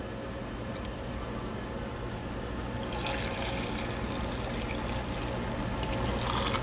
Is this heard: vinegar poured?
yes